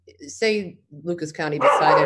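A pet dog barks and yips a few times nearby, indoors, mixed in with a person talking over it.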